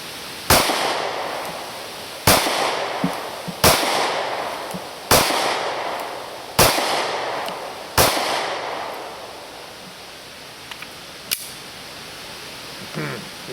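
Taurus PT745 pistol fired outdoors, seven loud sharp shots at a steady pace of roughly one every one and a half seconds, each ringing off into a lingering echo, then quieter background.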